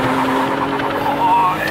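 Supercharged BMW Kompressor accelerating hard with wheelspin in first gear, a loud rising engine roar with a tyre squeal near the end, while people talk excitedly over it.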